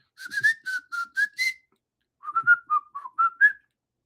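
A person whistles a short tune, two phrases of several bright clear notes each, separated by a brief pause, close and alone.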